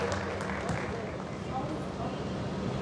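Steady applause from an audience at a bhajan evening during a temple consecration festival welcomes Ram Kishor ji, a dense, continuous wash of clapping mixed with crowd noise.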